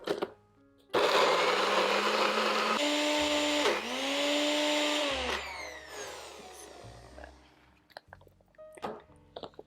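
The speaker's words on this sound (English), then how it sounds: "So we're just gonna blend this, and I'm using my NutriBullet today" A NutriBullet blender whips vegan tiramisu cream. After a brief pause it roars to life loud and close, and its whine shifts in pitch as the thick mixture churns for several seconds before cutting off into clatter.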